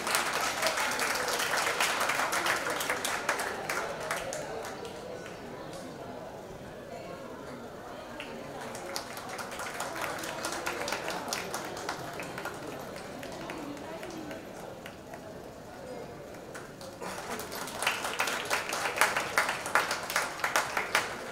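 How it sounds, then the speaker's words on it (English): Audience applause at a Delphic Council of Maharashtra song launch event, with bursts of clapping that swell, ease off in the middle and return loudly near the end, filling the room throughout. "So please next time be generous and clap your heart out"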